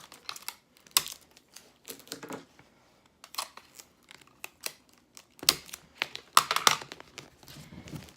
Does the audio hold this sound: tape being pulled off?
yes